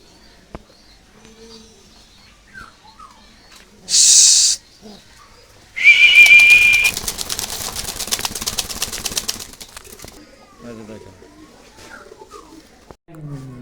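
Pigeons on a pigeon farm give soft, low coos and then a burst of wing-flapping and scuffling close by, with quieter bird sounds and a person speaking faintly around them.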